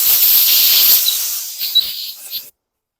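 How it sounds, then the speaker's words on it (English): A blast of compressed air hits the spark plug of a 2010 Yard Machines push walk-behind lawn mower. A loud, close hiss lasts about two seconds, fades with a few sputters and then cuts off into silence. "Let me blast this plug with some compressed air."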